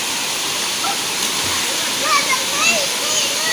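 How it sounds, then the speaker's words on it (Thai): A hot-spring waterfall in Krabi pours steadily, giving a loud, continuous rushing wash of water close by with faint splashes on top and no clear voices. "น้ำตกร้อนนะครับ"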